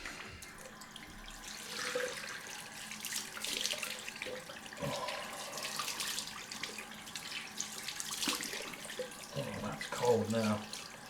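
Cold water runs from a tap into a sink for a rinse after a head shave, a quiet continuous splashing stream with some movement and clatter, growing busier near the end.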